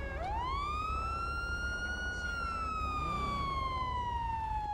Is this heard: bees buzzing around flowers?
no